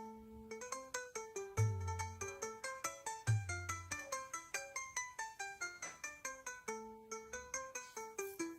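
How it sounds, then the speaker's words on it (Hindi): A phone ringing on an outgoing call in a Hindi family drama scene, heard as a repeating melodic ringtone pattern of bright plucked notes, steady and clear with no talking. "चलो उसको हम ही फोन लगाते हैं।"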